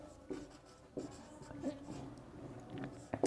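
Pen scratching out a mathematical limit expression during a class 12 calculus lesson, quick close strokes and taps in a steady run, with faint room noise behind.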